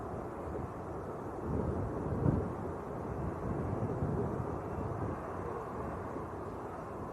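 Etihad airliner in blue livery at Manchester Airport, a distant, steady jet roar with wind buffeting the microphone, swelling slightly and holding through without any talk.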